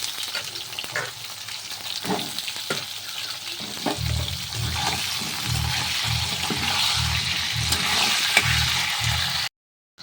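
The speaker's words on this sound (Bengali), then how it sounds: "এখানে পটল ভাজছি" Pointed gourd (potol) sizzles steadily as it fries in a pan, a continuous hiss with intermittent stirring scrapes and low thumps growing busier in the second half, then cutting off abruptly near the end.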